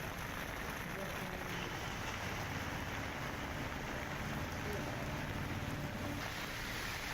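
Heavy, continuous rain in northern India, a dense steady hiss of falling water with no letup, loud and close throughout.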